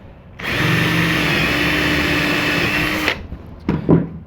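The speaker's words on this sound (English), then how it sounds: "So here's my drill and my wood drill bit." A power drill with a wood drill bit bores through wood clamped in a vise, whining steadily and loudly for about three seconds, then stopping, followed by a few brief handling clatters.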